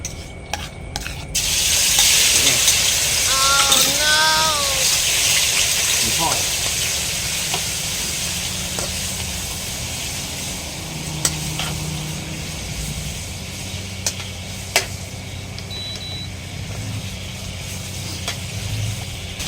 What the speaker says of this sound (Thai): น้ำมันพร้อมละเดือดละหมูลงเลย